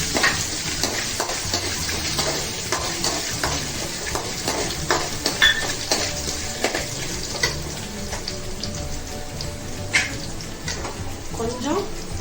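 Green chilies, ginger and peanuts fry in a pan for coconut sevai, with a steady sizzle and scattered clinks of stirring running throughout.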